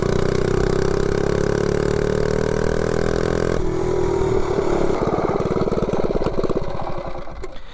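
A 98cc engine fitted with a billet flywheel and aggressive cam revs up loudly and steadily, its pitch climbing before breaking into a rough, rapid pulsing clatter as it pulls harder near the end.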